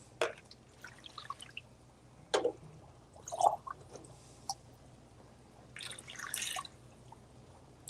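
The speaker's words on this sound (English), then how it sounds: "Just going to scoop a bit of water if we can find a hole in all the plants." Water drips and splashes in small irregular bursts as it is scooped from a planted home aquarium in a fish room, a few close, light sputters with quiet gaps between them.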